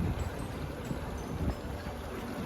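Ocean waves wash along a rocky, mussel-covered shoreline near Mossel Bay, South Africa, producing a steady, low broadband rush with soft swells and gurgles and no voices.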